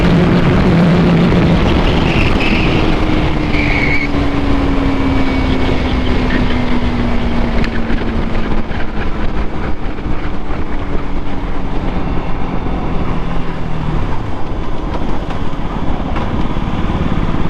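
RC motorcycle engine held against its rev limiter, a loud, sustained, buzzing drone close by with rapid stuttering pulses, its pitch sagging slightly over the long run.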